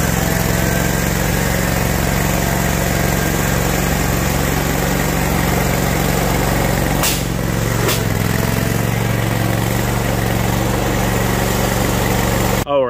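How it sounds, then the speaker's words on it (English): A lawn mower's Kohler engine runs loud and steady at close range throughout, a continuous droning hum with a couple of brief clicks midway. "the mower drowns my audio out when I'm trying to talk"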